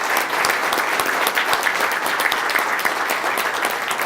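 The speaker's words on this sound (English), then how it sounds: "Let's give them a big round of applause." Conference audience applauding, a dense, steady wash of many hands clapping at once, loud and sustained without a break.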